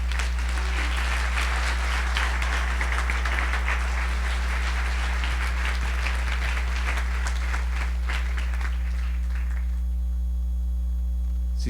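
Congregation applauding during a Saturday church service, a broad wash of clapping over a strong steady electrical hum that fades out near the end, leaving only the hum.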